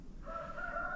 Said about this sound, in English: So got to get the chickens out here this morning.